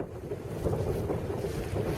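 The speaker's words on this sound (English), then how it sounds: "the wind picked up a bit and has really been hampering our progress going south" Wind blowing across a sailboat under way heading south, a steady broadband roar with gusty buffeting close to the microphone and some water wash beneath, continuous and loud throughout with no talking.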